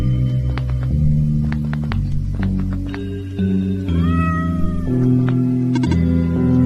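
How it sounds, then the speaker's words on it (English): A cat in the video game OneShot meows repeatedly, with drawn-out rising and falling cries over a steady low humming musical drone, loud and close. "Oh, a cat."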